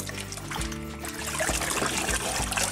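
Water trickles and drips from boiled cabbage lifted out of a bowl of cold water, a close, steady patter with small splashes and a low hum beneath, no voices.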